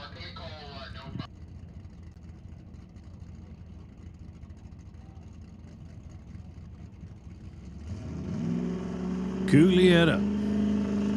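A drag racing car building boost at launch during qualifying at Smoke Fire and Thunder, a low engine rumble swelling into a loud rising roar with a sharp whine near the end, while an announcer speaks over it.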